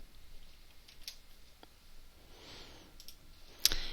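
Computer keyboard keys tapped while working in an Excel spreadsheet, giving a few faint, scattered clicks with short pauses between them and one sharper click near the end, quiet and without talking.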